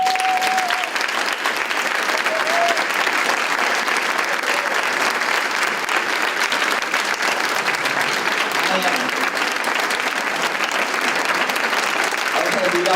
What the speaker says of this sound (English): Okay, do y'all know what you're clapping for?